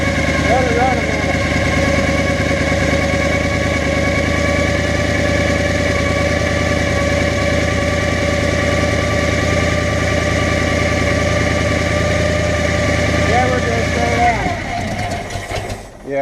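A 1979 Ford engine idles loud and close with a steady, even rumble and vibration, dropping away near the end, while people talk over it.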